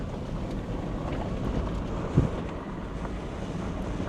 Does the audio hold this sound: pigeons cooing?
no